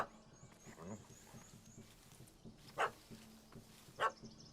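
A dog barks in The Witcher 3: Wild Hunt, two sharp isolated barks at moderate distance over faint game ambience and brief talk.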